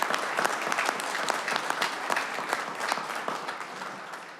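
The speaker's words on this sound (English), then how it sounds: "That deserves a clap." Audience applause at a police department progress presentation, a dense steady wash of many hands clapping, fairly loud and even throughout, tapering slightly at the end.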